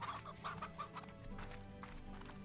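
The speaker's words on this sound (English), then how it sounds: "Oh, lots of chickens. Lots and lots of chickens." Chickens cluck repeatedly in the video game Slime Rancher, a busy flock giving short, rhythmic clucks and squawks over a low ambient game background.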